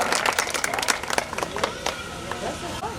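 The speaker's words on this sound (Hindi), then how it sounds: "और आप तालियों से इनका स्वागत" Audience clapping at a prize distribution ceremony, a dense burst of many hands applauding over crowd murmur, steady and close, with no speech over it.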